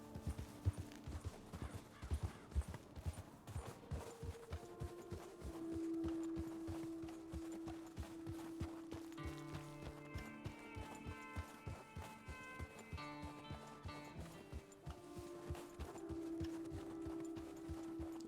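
Horse hooves clip-clopping at a steady gait while riding in Red Dead Redemption 2, a continuous close rhythmic clatter with a soft musical score underneath.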